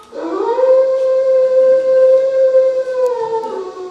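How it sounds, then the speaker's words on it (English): Dogs from a neighbouring estate howl at night: one long, sustained, mournful tone swells, holds steady for a few seconds, then tapers off, loud and clear with no talk over it. "Are there wolves about? Dogs from the neighboring estate, Carfax."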